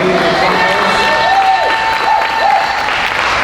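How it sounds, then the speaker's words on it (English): Loud applause and cheering fill the room at a ward leadership council candidates' forum, a continuous crowd roar with clapping and a few raised voices and whoops mixed in throughout. "I want to give a thunderous round of applause to Bob King and"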